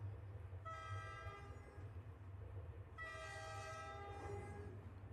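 Steady rumble of a train from the video game Omori, with two long train horn blasts sounding over it, one early and one near the middle, held for over a second each.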